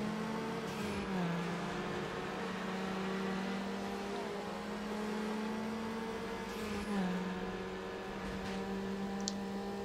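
A car engine in the racing video game Need for Speed Underground drones and revs steadily, its pitch shifting slightly as it holds a continuous, moderately quiet hum throughout.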